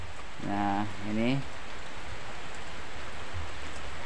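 Steady rain falls continuously as a broad hiss on a rainy morning, with a voice speaking briefly near the start and a low hum returning toward the end.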